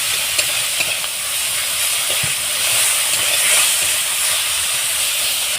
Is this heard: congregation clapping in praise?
no